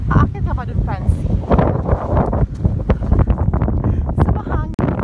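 Gusty wind buffets the microphone during a boat ride off Zambales, a loud rough roar with bursts and flutters. People talk over it close by.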